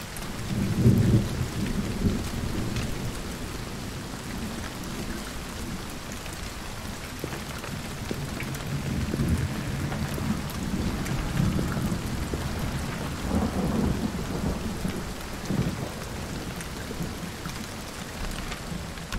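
Steady rain hisses throughout with low rumbles of thunder rolling underneath, a continuous stormy wash without a break, in the video game Hunt: Showdown.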